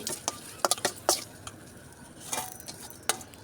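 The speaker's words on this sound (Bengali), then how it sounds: "শুকনো লঙ্কাটা গরম তেলের মধ্যে একটু ভেজে নিব" Dried red chillies fry in hot oil with a soft sizzle, punctuated by sharp clicks and scrapes of stirring against the pan.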